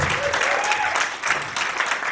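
A church congregation applauds after a sermon, steady clapping filling the room for about two seconds with a faint voice riding over it.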